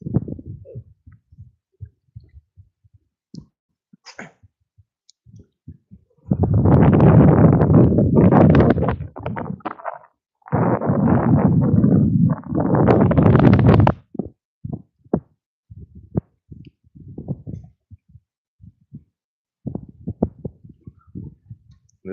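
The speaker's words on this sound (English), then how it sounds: "This wind is nice." Outdoors on a cold-front day of fishing, wind buffets the microphone in two loud sustained rumbling gusts, with scattered small knocks and handling noises around them.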